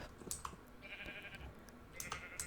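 A Minecraft sheep gives a short, quiet bleat amid light clicks, followed by a couple of soft tonal blips, all low in level.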